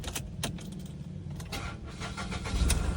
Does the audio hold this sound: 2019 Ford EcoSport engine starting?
yes